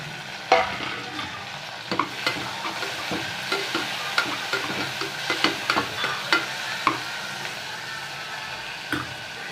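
Continuous sizzling of chopped tomatoes frying with onions in a pan, with repeated scraping and stirring clicks of a utensil.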